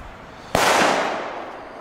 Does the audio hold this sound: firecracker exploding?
yes